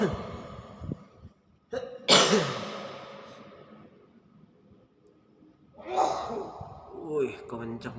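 A hill myna imitates a human cough, giving a few sharp, raspy coughing bursts separated by pauses, with people talking nearby.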